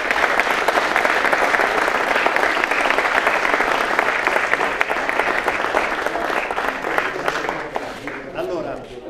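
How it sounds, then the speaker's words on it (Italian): Loud, sustained applause from a large crowd at an award ceremony, dense clapping that continues steadily throughout and tapers slightly near the end. "un grande applauso per Mediolanum Soccorso"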